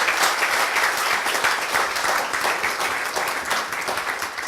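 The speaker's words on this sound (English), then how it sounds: "if we can give her a round of applause" A round of applause at a community solidarity town hall, a room full of people clapping steadily and fairly close, the sound staying even without talk over it.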